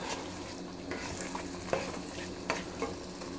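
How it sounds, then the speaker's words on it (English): Tomato bisque soup cooking down in a pot, a soft continuous bubbling simmer with occasional spoon stirs and light clinks against the pot, fairly quiet and without talk. "All that is really cooking down fast."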